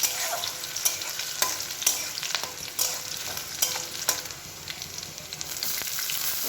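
Chopped garlic and slit green chillies sizzle in hot oil while a spatula scrapes and stirs the pan. The near, crackling fry is broken by sharp periodic clinks of the utensil.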